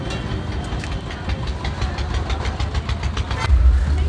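A tractor engine rumbles steadily in a Punjab village, with a rhythmic low chug that swells louder near the end.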